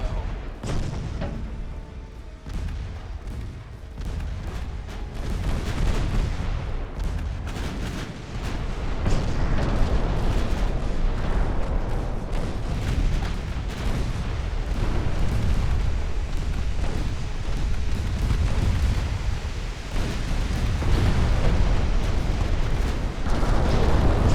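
Naval guns firing from warships in the battle game Ultimate Admiral Dreadnoughts: heavy, rumbling booms roll continuously for the whole stretch, loud and dense, with repeated blasts overlapping into a sustained thunder.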